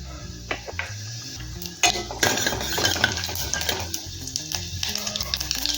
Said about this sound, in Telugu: ఆయిల్ వేడెక్కిన తర్వాత పోపు గింజలు యాడ్ చేసేసుకోండి జీలకర్ర ఆవాలు అలాగే ఎండుమిర్చి కూడా యాడ్ చేసేసుకోండి